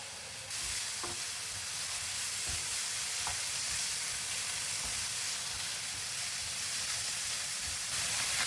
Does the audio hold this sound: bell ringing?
no